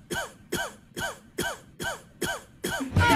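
Seven short, harsh coughs in an even rhythm, close and fairly loud, each followed by a brief pause.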